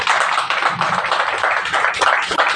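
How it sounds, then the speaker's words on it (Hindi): An audience claps loudly for a fellow member at a marketing meeting, a dense, continuous burst of applause lasting a few seconds with no talking. "एक बार जोरदार ताली बजाएं साथी के लिए"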